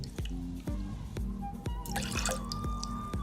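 Lemon juice drips and splashes into a cocktail jigger or glass, a quick series of close, distinct wet drops with a brief pouring trickle in the middle.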